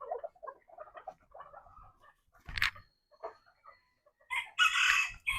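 Domestic chickens kept at a home yard, heard as short clucking calls early on and a louder, harsher burst of fowl calls near the end, with quieter stretches between.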